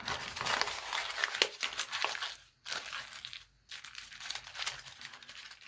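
Damp painted paper folded up by hand, giving close crinkling and crumpling rustles that come in uneven bursts with a couple of short pauses, and no voices over them.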